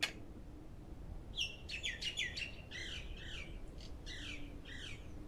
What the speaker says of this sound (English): birds are loud today